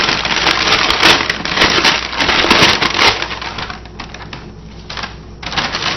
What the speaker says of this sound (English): So we are going to start by opening up our paper bag.